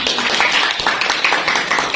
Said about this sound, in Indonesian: Tepuk tangan untuk Hanif